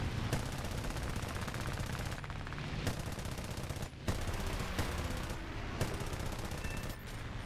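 Rapid biplane machine gun fire in the War Thunder air combat game, with dense bursts of gunfire running almost continuously and brief pauses between volleys.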